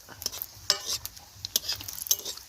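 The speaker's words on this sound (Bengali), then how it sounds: "চুল লঙ্কা দিয়ে হালকা করে একটু নাড়িয়ে দেওয়া হলো।" Chili, sugar and spices stirred in mustard oil for a village-style farm chicken curry, light irregular clicks and scrapes of a utensil over a quiet sizzle, close and without speech.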